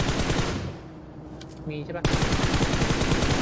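Rapid automatic gunfire rattles loudly in a team shooter match, dipping briefly while a player speaks, then bursts back in dense, sustained volleys.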